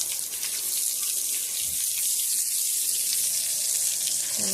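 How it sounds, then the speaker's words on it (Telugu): Tap water running steadily into a container, a soft continuous splashing flow heard close and fairly quiet, with no talk. "ఇదిగా చూడండి, ఇప్పుడు వాటర్ పట్టాలి కదా."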